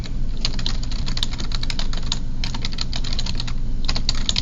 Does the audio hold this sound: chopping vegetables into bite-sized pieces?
no